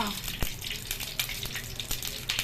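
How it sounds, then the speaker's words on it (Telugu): Ghee pours into a hot pan for vegetable biryani, a short wet splash and hiss with crackling bursts through the clip, close and fairly loud. "ఒక 3 స్పూన్లు నెయ్యి వేస్తున్నానండి"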